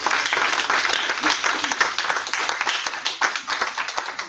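A church congregation bursts into sustained applause, dense overlapping hand claps that stay loud and steady throughout, with no voices rising above them.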